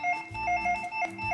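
A telephone rings in a studio for a live morning call-in TV show, a repeating electronic trill in short bursts, clear and prominent with no voices over it.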